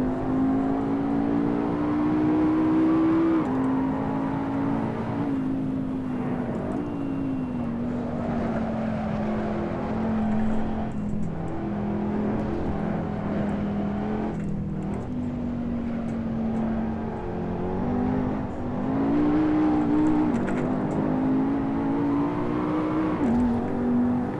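Race car in the Assetto Corsa driving game, its engine holding a loud, steady high drone that rises and dips through gear changes and corners, with faint tyre noise underneath.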